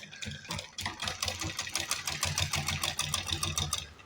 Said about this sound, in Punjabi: ਇੱਥੋਂ ਆਪਾਂ ਹੌਲੀ ਹੌਲੀ ਮਸ਼ੀਨ ਚਲਾਵਾਂਗੇ ਕਿਉਂਕਿ ਇੱਥੇ ਕੱਪੜਾ ਥੋੜਾ ਜਿਹਾ ਡਬਲ ਹੋ ਜਾਂਦਾ